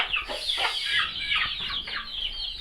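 Chickens cluck busily in a village yard, a close, continuous chorus of overlapping clucks and short squawks with no voices.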